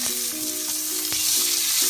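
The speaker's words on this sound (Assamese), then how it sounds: "নহৰু পিঁয়াজ অলপ ভাজিব লাগিব" Chopped garlic and onion frying in a pan with panch phoron give a steady close sizzle and crackle, with a faint tonal hum running underneath.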